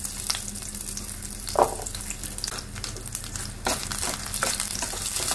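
Urad dal fries in hot oil on a low flame while tamarind rice is being made, giving a close, steady sizzle with occasional soft stirring scrapes and no talk.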